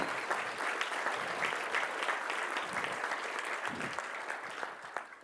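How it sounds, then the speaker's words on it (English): A conference audience gives the event organizers a round of applause: steady, dense clapping from many hands fills the room without pause, fairly distant and soft, tapering slightly at the end with no talk over it. "So let's give them a round of applause."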